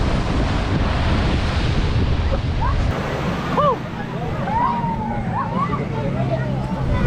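Surf washing in at Riviola Beach in Batam, a steady wash of waves close by with wind buffeting the microphone, a few faint whistling calls drifting over the roar partway through.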